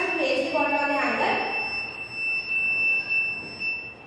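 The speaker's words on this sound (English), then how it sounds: "when the buzzer starts beeping and the LED starts glowing" The buzzer on a school-built IV fluid indicator model gives a steady, high-pitched electronic tone that holds throughout, while a person speaks over it at the start.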